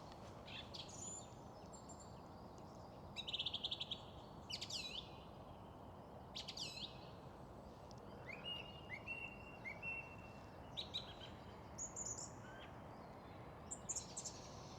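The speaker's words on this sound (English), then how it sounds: "just listen to all those bird songs" Several birds chirp and sing in short, bright phrases outdoors, scattered across the clip over a soft, steady background hiss.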